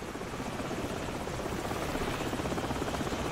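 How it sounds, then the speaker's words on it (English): Helicopter in the Call of Duty 4: Modern Warfare video game, a steady loud rotor thrum and engine buzz that holds constant throughout with no talk over it. "Hold on, the helicopter's back."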